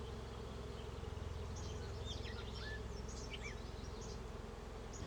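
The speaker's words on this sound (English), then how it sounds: "There are a lot of bees that are just kind of drifting side to side here." Steady, dense insect buzzing from many bees around a hive, a continuous drone with faint high chirps drifting over it, close and even throughout.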